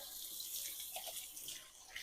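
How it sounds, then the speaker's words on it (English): Hands are washed under a running tap in a firehouse kitchen during cooking. The faint, steady hiss of flowing water splashes softly throughout, with no talking. "So now you want to wash your hands"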